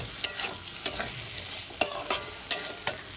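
Spices and tomato frying in a pan while being stirred, with a soft continuous sizzle broken by about seven sharp spatula scrapes and clacks at uneven intervals, close and without talk.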